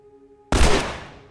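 A single loud gunshot blast in The Last of Us, sharp and booming with a trailing decay, after a quiet stretch.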